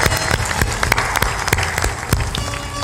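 A seated crowd at a religious discourse applauds in welcome, a loud, continuous stretch of clapping with a few sharper individual claps standing out near the front.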